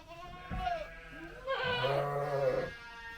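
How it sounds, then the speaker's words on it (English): A sheep on a farm gives two wavering bleats, the second longer and fuller, heard up close with a quiet pause between them. "This is where all the sheep are."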